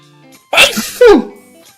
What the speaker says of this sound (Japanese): くしゃみの音ってさ、消えてる？